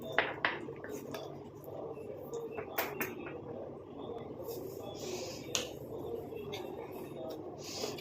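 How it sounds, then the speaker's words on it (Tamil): A spoon clinks and scrapes repeatedly against a bowl while stirring a coffee powder hair dye mixture, with steady sharp taps under a quiet spoken voice. "நல்லா இதை மிக்ஸ் பண்ணி விட்டுடலாம் இந்த காஃபி பவுடர் வந்து இது நல்லா வந்து மிக்ஸ் ஆயிடணும்"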